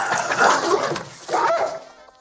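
A dog barks twice, with whining, yelping bursts close by, each lasting under a second, with a short gap between them.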